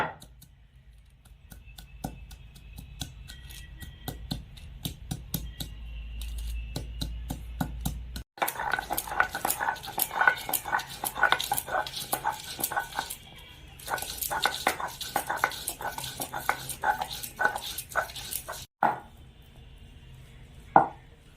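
Fresh ginger being ground into paste for a vegetarian goat meat curry, a quiet run of rapid, irregular scraping and knocking strokes, close and steady, with brief pauses.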